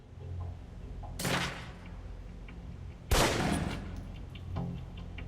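Two sharp gunshots ring out at a shooting range in the video game Alpha Protocol, each a loud crack with a short decay, spaced about two seconds apart over quiet background.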